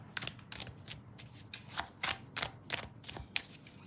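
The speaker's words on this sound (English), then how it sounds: "Let's pull a couple of cards from each deck." A deck of tarot and oracle cards is riffled and shuffled close by, a series of crisp, fluttering bursts repeating roughly every half second with soft thumps between.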